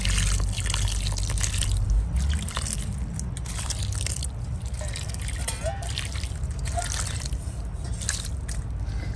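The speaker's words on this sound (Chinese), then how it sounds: "要浇水， 这样来就是要浇水。" Water trickles and splashes steadily into the soil of a potted cinnamon tree, a continuous close wet pouring with faint dripping throughout.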